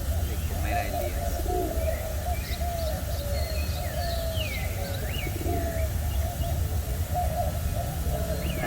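Pigeons or doves coo on and off, with a few brief higher chirps from other birds, over a steady low background rumble. No one talks.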